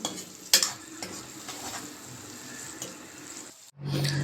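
Crushed ginger and garlic stirred in a frying pan, with a soft steady sizzle and scraping spoon sounds and a few sharp knocks, then a brief silence before louder frying.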